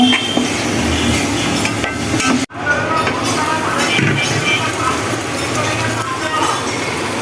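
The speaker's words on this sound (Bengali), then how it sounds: "এটা এখন ভালো করে একদম কষিয়ে নেব।" Ground cumin stir-fries in a pan under a steady sizzle, with a spatula scraping and clinking against the metal and a brief sharp break partway through; someone talks over the cooking.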